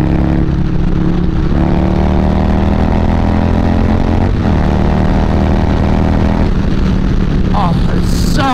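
A Harley-Davidson Softail Street Bob with a stage 2 114 engine rumbles loud and close as it is ridden, its deep drone stepping up and down through several gear changes over steady wind rush, with some talk underneath.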